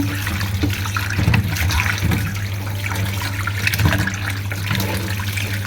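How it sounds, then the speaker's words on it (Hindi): Tap water runs steadily over chicken pieces being washed for a white chicken qorma, a continuous close rushing stream with brief swells of splashing and no talking. "चिकन को हम वॉश कर लेंगे 20 मिनट के बाद"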